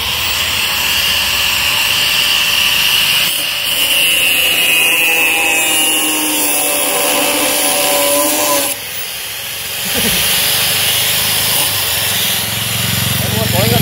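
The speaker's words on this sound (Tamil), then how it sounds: "அதாவது பாக்ஸ் கொஞ்சம் கட் பண்ணணும்." A box holding an electric bike battery is cut with a power tool, a loud, steady high-pitched whine and rasp that dips briefly partway through, close and continuous, with someone speaking over it.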